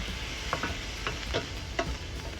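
Garlic sizzling in a pan for keto fried rice, a close, steady fry broken by repeated spatula scrapes and taps roughly every half second.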